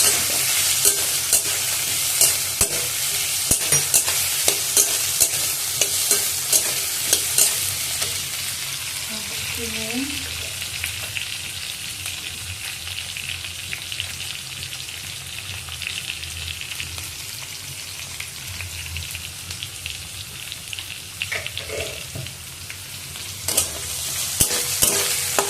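Vegetables (green chilies, capsicum and carrot) fry in a pan with a steady, crackling sizzle, broken now and then by a utensil stirring and scraping, continuous and close with no talking.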